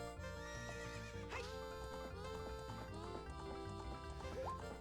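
In The Legend of Zelda: Ocarina of Time, a horse lets out loud, wavering neighs amid clip-clopping hooves, layered over continuous bright game music.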